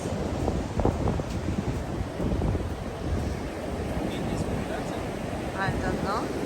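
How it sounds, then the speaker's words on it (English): Ocean waves roll in at a beach on the Isle of Wight, a steady broadband rush under heavy wind buffeting the microphone, with a voice speaking briefly over it. "What a nice waves."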